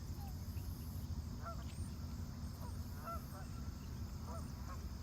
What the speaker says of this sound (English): you can see, maybe hear the ducks